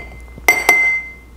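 Glass vessel clinks twice in quick succession as pitanga fruit is mashed inside it for a gin cocktail. The close, bright knocks are followed by a lingering ringing tone, with no talking.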